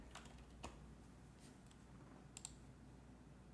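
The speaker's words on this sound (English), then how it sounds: "We gonna type these in real quick." Quiet typing on a computer keyboard: a few soft, scattered key clicks over a low background hum, with no talk.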